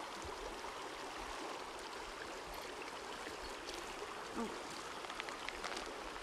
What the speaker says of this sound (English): I'm gonna pour it on.